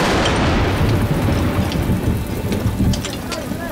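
Heavy rain pouring steadily and loudly across an outdoor scene, a dense continuous wash with a low rumble beneath, voices faintly mixed in.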